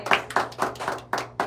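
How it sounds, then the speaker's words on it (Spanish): A few hands clap in a slow, even rhythm, about six distinct claps close by, at a Day of the Security Guard gathering, with a faint hum beneath. "Te voy a aplaudir"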